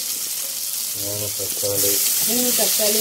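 Onions fry in a pan for a Dharmapuri-style fish curry, a constant close sizzling hiss that grows louder toward the end, with a voice briefly talking over it.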